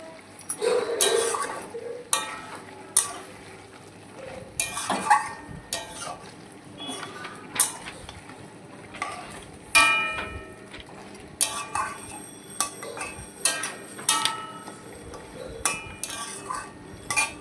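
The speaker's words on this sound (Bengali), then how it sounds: "এটা একটুখানি ভালো করে কষাচ্ছি" Chicken is sautéed and stirred in a pan: a spoon scrapes and clatters against the metal in irregular bursts, close and fairly quiet, with only a faint sizzle underneath.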